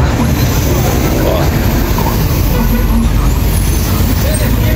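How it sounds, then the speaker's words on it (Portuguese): Steady, loud city din in the center of Itaboraí: roadworks machinery and passing buses with a faint air-brake hiss, a continuous low rumble with distant voices mixed in. "É muito barulho de obras, barulho dos ônibus, das pessoas."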